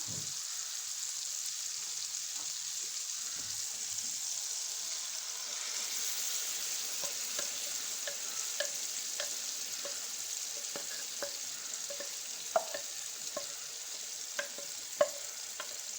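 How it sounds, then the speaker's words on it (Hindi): Mustard greens saag dropped into a hot tarka give a quiet, even sizzle, with sharp little spatters and clicks growing more frequent as cooking goes on. "अब इसमें हम डालेंगे साग"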